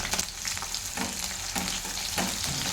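Onions and green chillies sizzle and crackle in hot oil with mustard seeds for a sambar, a steady close frying hiss with soft stirring bursts and no talk.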